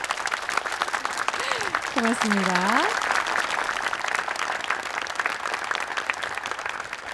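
A studio audience at a televised regional education debate breaks into sustained applause, a dense, even clapping that fills the whole stretch while a voice briefly speaks over it.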